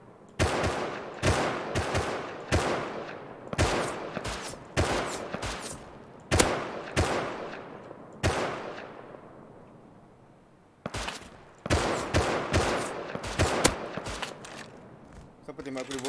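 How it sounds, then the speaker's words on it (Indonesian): Rapid bursts of revolver and other gunfire in a modded Rust PvP match, loud and close, with clustered shots, a pause and then a second flurry. "Siapa tembak aku revolver lah?"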